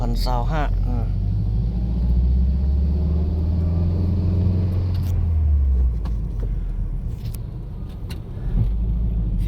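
Evening traffic on Souphanouvong Road in Vientiane, with cars and motorbikes rumbling past close by in a heavy continuous drone, engines swelling and fading as vehicles pass.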